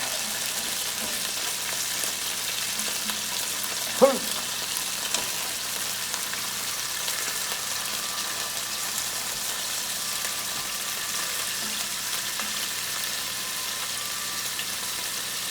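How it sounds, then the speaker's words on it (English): Meat browns in hot oil in a pan for Guinness stew, giving a steady, close sizzle throughout with a single brief knock early on. "So let me see how we're doing on the browning. Yep, things are already browning and burning."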